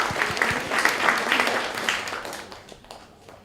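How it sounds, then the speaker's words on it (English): Audience applause at an engineering event, a burst of many hands clapping that starts strong and gradually thins out and fades over a few seconds. "Yes, please clap."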